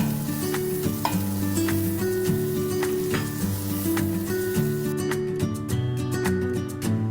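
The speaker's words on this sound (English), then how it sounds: "Preheat the pan for frying pan for 2 to 3 minutes. Put your butter on there." Steady sizzling and crackling of butter frying in a preheated Cutco pan, continuous throughout, with a faint tonal hum underneath and no talking.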